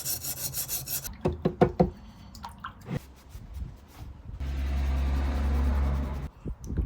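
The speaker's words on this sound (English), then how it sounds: "When sharpening any knife," An old camping knife blade scrapes across a sharpening stone in short rasping strokes, then a steadier grinding passage, close and moderately loud with gaps between strokes and no talking.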